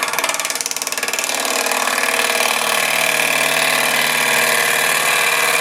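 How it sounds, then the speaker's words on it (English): A wood lathe spins a natural edge bowl blank with a loud, steady mechanical hum and a fast rhythmic flutter, holding constant and close without pause or voices. "I'm going to start turning this into more of a round shape, round bottom."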